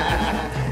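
A brief, loud horse whinny sound effect, a single wavering neigh that fills the whole short moment with no speech over it.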